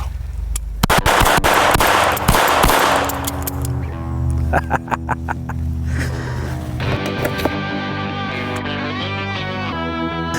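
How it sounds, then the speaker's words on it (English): Two micro .22 LR pistols fired double-fisted in a rapid string of sharp cracks, loud and close, the shots ringing into echoing metallic clatter that fades out. "Get a little double-fisted 22 long rifle action here"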